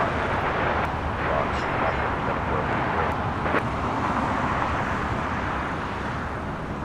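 A Delta Airlines Airbus A330neo, Flight 7 bound for Tokyo Haneda, takes off from LAX. Its engines make a loud, steady, broadband jet roar that stays constant the whole time and eases only slightly at the end.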